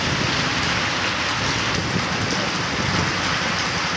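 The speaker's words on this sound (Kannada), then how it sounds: "ಅಣಿಕಲ್ಲಿನ ಮಳೆ ಆಗಿದೆ ನೋಡು" Hail and rain pour down during an evening storm near Haveri in Karnataka, a loud, dense and unbroken hiss that holds steady from start to finish with no voices.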